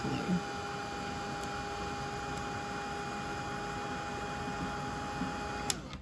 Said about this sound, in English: And then I just take my little heat tool and dry that to try and dry some of that